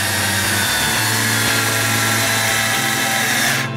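A power drill set to low power drives screws while a Robot Graves guitar neck is swapped, a steady loud whir running unbroken for several seconds before cutting off at the end.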